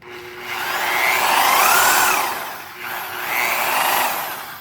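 Milwaukee Sawzall reciprocating saw running freshly serviced, a steady loud motor whine that rises in pitch, dips briefly, then spins up again, with no talk over it.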